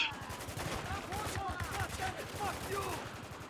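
Dense rapid gunfire from the video game Spec Ops: The Line, steady bursts of shots filling the scene continuously, with shouted voices and game chatter running over the top throughout.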